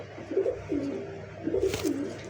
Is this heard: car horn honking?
no